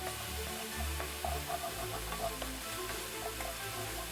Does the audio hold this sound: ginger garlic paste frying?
yes